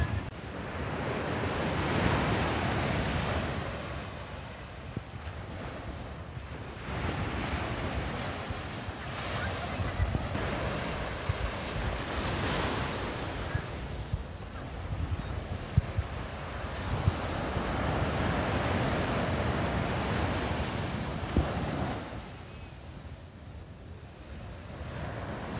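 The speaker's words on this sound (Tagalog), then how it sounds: "Lakas ng alon, guys." Strong ocean waves crash and roar continuously at Pundaquit Beach, Zambales, with wind buffeting the microphone throughout.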